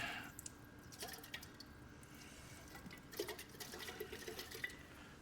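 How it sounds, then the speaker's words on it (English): Water poured into a can while preparing a make-ahead Thanksgiving side dressing, heard as faint trickling and dripping splashes over a low background hum. "I'm going to just put some water in this can."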